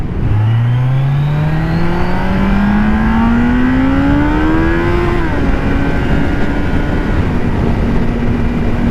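A Kawasaki Z900 inline-four motorcycle engine revs up in one long rising sweep, then settles into a steady high idle, loud and close with no talking.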